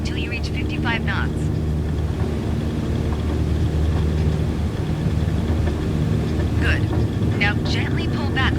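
A light airplane's engine runs at takeoff power in Microsoft Flight Simulator 2020, a steady droning roar throughout while a voice talks over it.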